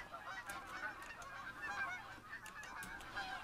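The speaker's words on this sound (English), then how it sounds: "I can hear geese." Geese honk in theHunter: Call of the Wild, a faint chorus of overlapping nasal calls repeating irregularly at a distance over a soft steady background.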